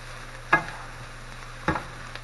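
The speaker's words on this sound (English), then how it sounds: "Okay, so the onions are sauteing. I just dumped the meat in. Give everything a stir." Ground beef and sauteing onions in a pan, with two sharp clinks of a spoon stirring against the pan over a faint, steady sizzle.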